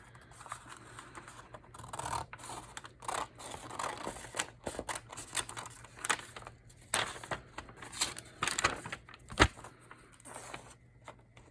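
Scissors trim a paper piece cut from a junk mail envelope for a junk journal, giving close, crisp snips and rustling paper in an irregular run of cuts, without talk.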